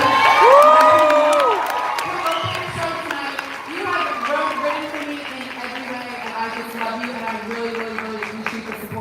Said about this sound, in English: a round of applause for Amber over here